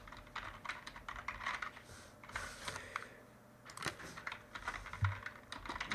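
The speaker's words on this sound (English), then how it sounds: "I'm literally typing in the poll who's winning." Rapid clicking of computer keys in steady bursts, with short pauses between runs of typing, fairly close and moderately loud.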